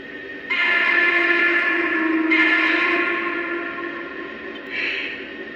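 A Lionel Vision Line model locomotive sounds its hooter whistle in three long, echoing blasts, the middle one longest, each trailing off in reverberation with no talk.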